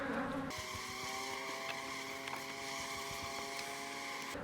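Honey bees buzz around hive frames during a hive split, a steady droning hum with a few sharper passes of individual bees close by, continuous and fairly quiet.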